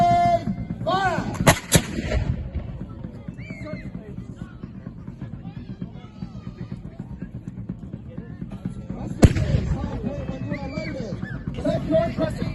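A volley of musket-style gunfire goes off on command at a hobby event, two sharp loud cracks about seven seconds apart, with crowd murmur and talking underneath throughout.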